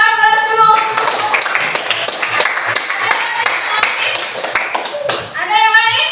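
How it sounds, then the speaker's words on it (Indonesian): A class of students applauds in a classroom, a dense, steady patter of many hands clapping close by for several seconds, framed by a voice speaking at the start and end. "Oke, kita aplaus dulu."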